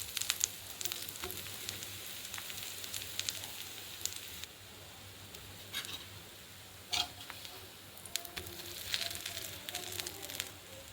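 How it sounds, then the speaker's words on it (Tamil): Bread roasting in butter in a pan gives a soft, steady sizzle with scattered crackles and a few light clicks and scrapes, fairly quiet and with no talking. "அதில் ப்ரெட்டு ரோஸ்ட் பண்ணி எடுத்துக்கலாம்."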